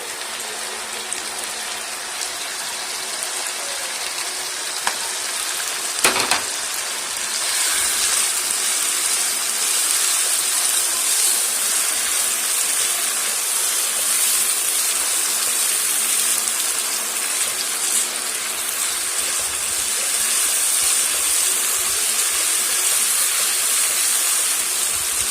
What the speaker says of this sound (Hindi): अंदर भिंडियाँ बहुत अच्छी तरह से भून रही हैं, भून चुके हैं।